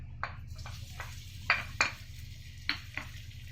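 Grated ginger dropped into hot butter or ghee for sweet corn soup and stirred, giving a few soft scraping clatters of a spoon against the pan over a low steady hum, close and fairly quiet.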